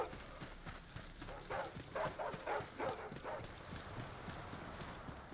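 A dog barks in the survival shooter video game Stay Out, a short run of sharp, fairly close barks in the middle of the moment over steady game ambience.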